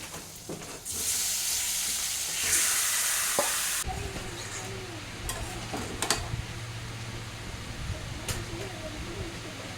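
Loitta fish dropped into a hot frying pan for a home-style curry bursts into a loud, close sizzle that then settles into a steady crackling fry with a few light clinks, no talk.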